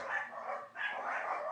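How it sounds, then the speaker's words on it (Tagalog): Neighbours' dogs bark in two short, faint bursts from some distance away, with no talk over them. "Tapos pag nagtahulan na yung isa, magtatahulan na lahat."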